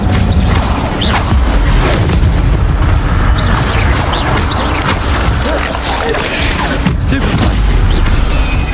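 A fire spell cast in the wizarding game Hogwarts Legacy during a fight with spiders, a loud roaring whoosh of flame amid crackling bursts and dense combat noise, with a voice partly heard underneath.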